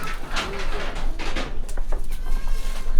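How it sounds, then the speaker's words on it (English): Goats on a mixed farm, a herd of about seventy, bleat repeatedly at close and middle distance. The calls overlap in irregular bursts over steady farmyard rumble. "these are our goats."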